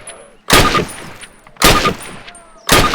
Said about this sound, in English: Approach the fence and fire 6 rounds at your target.